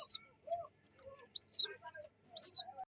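Pigeons kept for sale call in short bursts, with bright chirpy notes repeating about once a second over softer, lower calls. Close and fairly quiet, with no talking.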